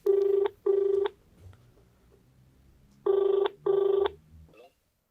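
A telephone being called toward a police station gives four loud, close ring tones in two pairs, with a pause between the pairs and faint low background sound underneath.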